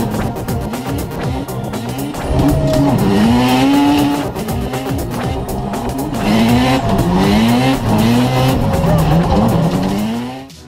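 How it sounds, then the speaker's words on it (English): A 1956 Volvo BM Terrier tractor with a 225 hp engine swings through steep turns, its engine droning loudly and steadily throughout with rising and falling pitch sweeps. "The tractor made such steep turns that even some racers would be jealous."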